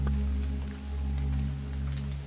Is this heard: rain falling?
yes